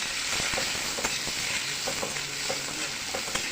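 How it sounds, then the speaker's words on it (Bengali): Onions fry in a pan with a steady sizzle, broken by the scrape and clack of a spoon stirring now and then, close and continuous with no talking. "পেঁয়াজটাকে আধ ভাজা করে নেবো"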